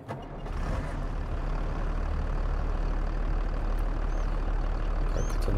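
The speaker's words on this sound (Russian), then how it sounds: "запускаем двигатель." A T-150K tractor engine in Farming Simulator 22 starts and settles into a steady, loud idle, a continuous low rumble that runs without break and with no talking over it.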